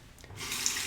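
Tap water runs steadily over a Merkur 23 INOX stainless steel safety razor being rinsed, a close, soft hiss that swells slightly and holds on its own without any talk.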